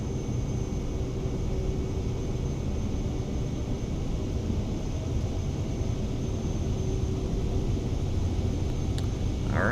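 Fusion G2 jet engine at full power during a takeoff roll in Flight Simulator 2024, a steady, loud broadband roar and rumble holding constant throughout with no talk.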